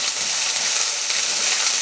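Homemade ginger garlic paste sizzles in a pan for a Kerala-style vegetable stew, a loud, continuous hiss of frying heard alone and close up.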